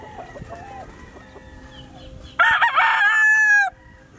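A rooster at a gamefarm in Calaca, Batangas lets out one loud, close crow lasting about a second, preceded by quieter clucking and distant bird calls.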